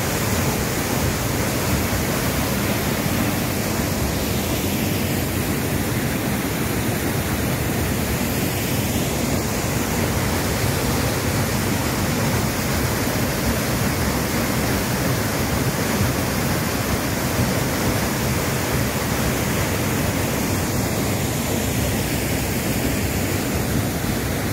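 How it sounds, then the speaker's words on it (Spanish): Steady, loud roar of the El Pantanal waterfall near the hot springs at Papallacta, Ecuador, a dense broadband rush of falling water that holds constant from start to finish, with no voices over it. "Sí, llegamos a la cascada del Pantanal."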